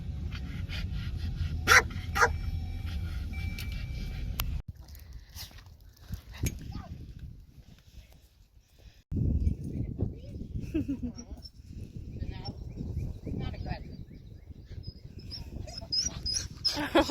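A dog barks and yips in short, uneven bursts mixed with whimpers, fairly near, with people talking in between and a quiet gap in the middle.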